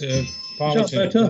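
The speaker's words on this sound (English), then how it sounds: "my Ring doorbell goes off in the background" A Ring doorbell chime rings faintly in the background of an online council committee meeting, a thin steady tone under and between close speech.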